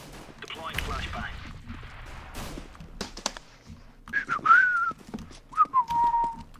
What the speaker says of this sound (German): Nicht pfeifen, bitte.